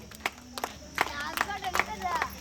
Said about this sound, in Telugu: చప్పట్లు కొట్టాలి.